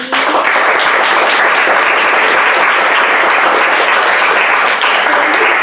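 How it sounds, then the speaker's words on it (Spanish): Steady, dense audience applause at a conference for a keynote speaker, loud and close, with even clapping holding for several seconds and no talk over it. "Pues yo les pediría un aplauso para la doctora"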